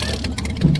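Neil Woolridge Motorsport race car at the Simola Hillclimb, its engine and big exhaust giving a steady, loud, deep rumble close by that swells briefly near the end, with no voices.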